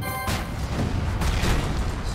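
Cannons firing in the tabletop strategy video game Tabletop Gods, a dense booming burst that rumbles on continuously for a couple of seconds, loud and close.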